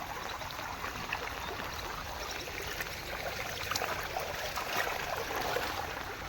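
Floodwater rushes and gurgles steadily somewhere outdoors, a faint, continuous watery roar with small splashing surges and no voices.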